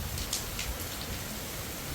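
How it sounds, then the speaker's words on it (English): Hurricane Milton's rain falls as an even, hissing wash of drops, faint and steady throughout with no voices. "And it's raining in some areas right around us."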